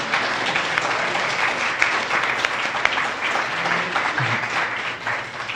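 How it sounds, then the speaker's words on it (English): Sustained applause from an audience at an awards gala honoring top instructors, steady and dense clapping throughout without speech. "Let's give Alberta a huge round of applause for their excellent contributions to the communities."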